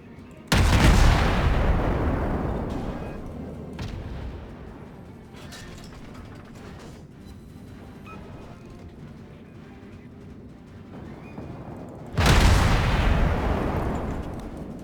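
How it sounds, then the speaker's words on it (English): A warship blows up in the naval game World of Warships, two heavy booming blasts with a long rumbling decay between them, loud and close with faint mechanical clanks underneath and no talk. "He blew up."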